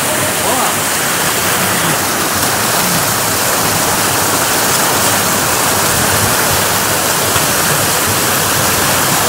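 Waterfall at the end of a dense forest trail, a loud, steady broadband roar of falling water that fills the whole clip without a break.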